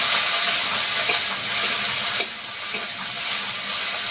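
Ginger-garlic paste hitting very hot oil in a wok, giving a loud, steady broadband sizzle with a few sharp crackles and spatters throughout, and no voices.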